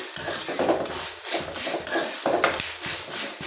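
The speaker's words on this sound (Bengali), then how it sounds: "সোয়াবিন তেলে এখন আমি বুট ভেজে নিচ্ছি আর বুটগুলো কত সুন্দর হয়ে যায় ফেটে ফেটে যাচ্ছে দেখুন" Chickpeas frying in soybean oil in a pan, scattered crackling and sputtering with small popping bursts and occasional clinks of a utensil, close and steady.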